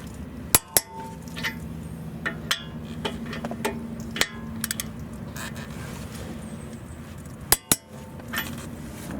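A torque wrench tightens 18mm brake bracket bolts on a Volvo XC front brake job, giving a few sharp metallic clicks and clinks spread over a low, steady background hum, with no talking.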